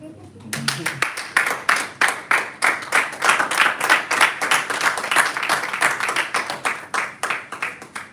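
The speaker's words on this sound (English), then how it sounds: "I'm going to insist on the clap." An audience at a Toastmasters club meeting in a Lagos hotel claps in a steady rhythmic beat, about three claps a second, loud and close, lasting for several seconds after a brief voice at the start.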